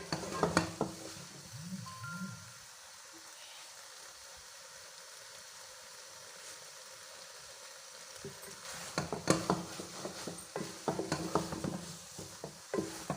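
A sweet carrot mixture roasting in a pan and being stirred, with scraping and clattering bursts at the start and end around a quieter stretch of gentle sizzling.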